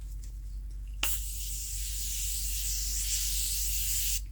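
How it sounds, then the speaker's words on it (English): Morphe Continuous Prep and Set Mist setting spray, a ceramide and antioxidant face mist in gold packaging, hisses from its pump in one steady close spray lasting about three seconds, then cuts off abruptly in a quiet room. "I want to spray a little bit of the Morphe Continuous Prep and Set Mist, supercharged with ceramides and antioxidants"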